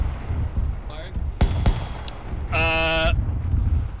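Artillery piece of the 6th Airborne Division fired on command at charge zero during a live-fire test: two sharp, broadband blasts in close succession over steady outdoor noise, followed later by a brief tonal, buzzing burst.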